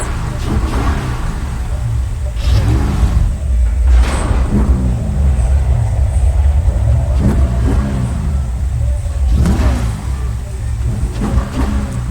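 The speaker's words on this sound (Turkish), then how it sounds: "Uf arabanın sese bak." A car engine in the video game Need for Speed Most Wanted Remastered revving hard in repeated bursts with deep rumble between them, loud and close, with a voice speaking at times.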